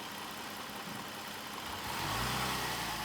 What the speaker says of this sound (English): Go ahead and hit the gas a little bit.